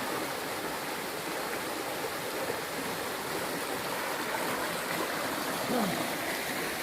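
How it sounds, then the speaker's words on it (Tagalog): Strong current of a rain-muddied stream or small river along a farm lot boundary in Liliw, Laguna, rushing as a steady, even wash of water noise with no voices. "Malakas po ang agos ng tubig."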